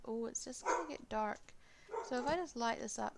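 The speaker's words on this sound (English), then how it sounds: "Really sorry about my dogs." Pet dogs barking indoors at home, several quick yips and barks in short bursts, somewhat distant, mixed with a person talking over them.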